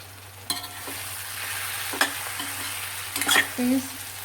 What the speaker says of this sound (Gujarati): તો પાછું હલાવી અને ચેક કરી લઈએ